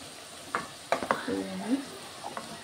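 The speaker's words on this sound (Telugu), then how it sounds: "వంకాయలు మంచిగా ఫ్రై అవుతున్నాయి." Eggplant fries in a pan as soaked soya chunks are added and stirred, giving a low steady sizzle with a few sharp spoon clinks and scrapes, and a faint voice briefly in the background.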